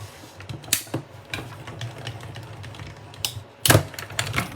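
A hand-cranked embossing machine pulls a paper card with washi tape through its rollers, giving irregular clicking and ratcheting bursts with a louder grinding surge near the end, close and alone over a low hum.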